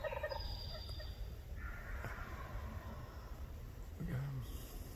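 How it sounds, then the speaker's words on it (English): A wild turkey gobbling from a tree limb outdoors, a couple of distant rattling gobbles over steady background noise and wind, with a person speaking quietly nearby. "Gobbling on the limb up there."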